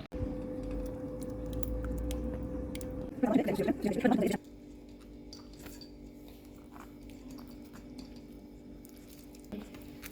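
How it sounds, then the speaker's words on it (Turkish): Boiled red plums pressed through a sieve, soft wet squishing and scraping with a louder burst of mashing in the middle, over a low steady hum; quiet otherwise. "Sadece tortusu ve çekirdeği kalana kadar süzmeye devam ediyoruz"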